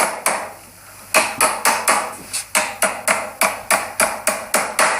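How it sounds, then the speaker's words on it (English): Nails are driven into a wooden bench top with a hammer, a rapid series of loud, sharp, close blows in a steady rhythm after a brief pause near the start. "and then we hammer it on."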